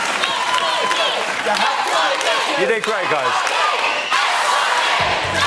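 Studio audience at a live TV talent show cheering and applauding loudly throughout, a dense roar of clapping and shouts, with a voice speaking over it.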